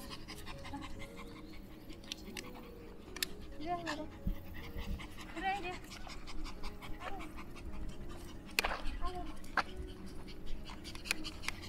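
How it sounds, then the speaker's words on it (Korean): A dog pants rapidly and steadily outdoors on a hot day, the quick breathy rhythm running throughout at close range, with faint background sounds and occasional brief noises. "날이 더워서인지 우리 줄리가 굉장히 헉헉거리네요"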